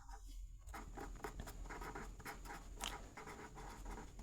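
Chalk or pen scratches steadily across a board during a maths lesson, a quiet run of short strokes and taps in a continuous scribbling rhythm.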